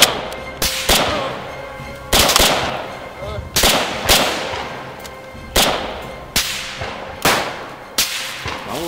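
Repeated loud gunshots from World War II-era guns in a comedy shootout, sharp cracks fired irregularly about every second, each with a brief decaying echo, close and dominant.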